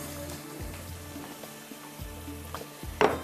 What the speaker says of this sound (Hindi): थोड़ा सा इसको भूनना है अच्छी तरह से बुनाई करके